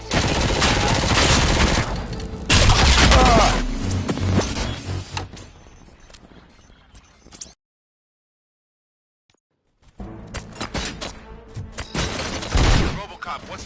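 Gunfire in the video game Robocop Rogue City, loud rapid bursts of automatic shots that stop for a couple of seconds of silence, then resume with more volleys.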